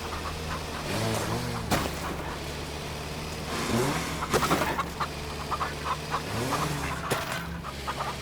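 Chickens cluck in the farming video game Farm Together, several short clucking bursts recurring over a steady low hum with scattered clicks and small game sounds.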